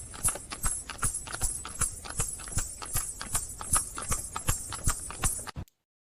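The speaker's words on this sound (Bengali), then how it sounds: "ঘোড়াটা যেন প্রাণপণে গাড়িটা টেনে নিয়ে ছুটল।" A single horse pulling a carriage clip-clops at a brisk, steady trot, the hoofbeats sharp, evenly spaced and close, continuing alone before stopping abruptly.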